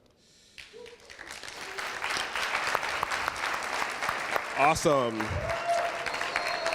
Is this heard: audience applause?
yes